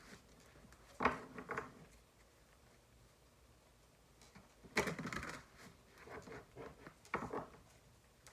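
A tarot card deck is shuffled in three separate bursts of quick, soft riffling patter, fairly close, with quiet pauses in between.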